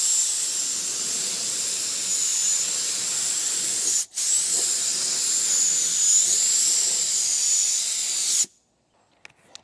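A spray gun hisses continuously while a second finish coat goes onto a guitar body, loud and close, with one brief break midway before cutting off near the end to near silence.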